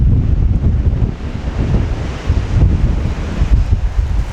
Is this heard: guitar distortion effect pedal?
no